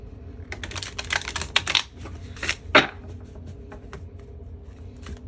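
A deck of tarot cards shuffled by hand, a run of quick riffling bursts with a couple of sharper snaps, then quieter fluttering as the cards settle, close up with no voices.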